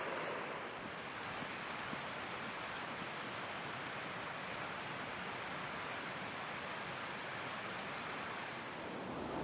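Water of the River Dart flowing through woodland, a steady, dense rushing wash that stays even and close throughout with no other sounds.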